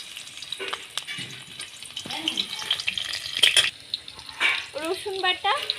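Chopped onion hits hot oil in a kadai while ghugni is being made, giving a soft, close sizzle. Metal spatula scrapes and clanks sound over it, and a voice speaks briefly toward the end.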